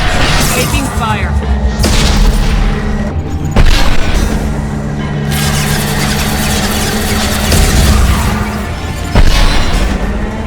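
Gunship fire and heavy explosions in the video game Mass Effect 2, several loud booming blasts and rumbling impacts over a droning engine, with voices calling out among the combat.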